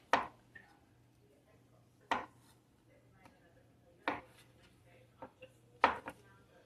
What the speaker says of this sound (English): I'm just giving them a rough chop